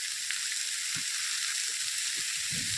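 Capsicum and cabbage sauté in a hot pan with a steady, close sizzle that hisses continuously, with a few soft stirring knocks scattered through it.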